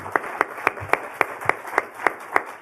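Slow, evenly spaced claps, roughly one every quarter second, ring out at a political event over a low background murmur, sounding like a small round of rhythmic audience applause.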